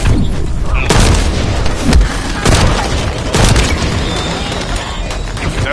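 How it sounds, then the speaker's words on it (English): Heavy gunfire and booming blasts in a video game, loud and dense with several sharp bursts over continuous rumbling, no voices. "That stopped the gunfire."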